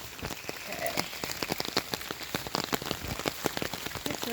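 Steady rain on a farm, a dense patter of drops striking nearby surfaces with sharper individual taps scattered throughout, close and continuous.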